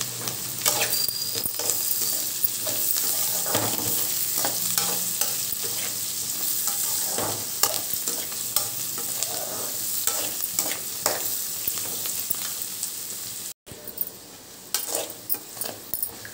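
Vegetables for fried rice fry over high flame in a pan, a continuous hiss under repeated scraping stirs and light clatter of a utensil against the pan, close and steady with no talk.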